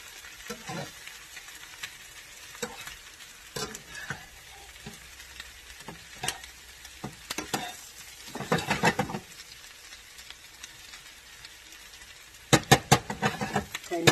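Jalapeno pepper wings frying in a pan give a steady soft sizzle, broken by irregular stirring scrapes and louder bursts of crackle near the end, with no talk over it.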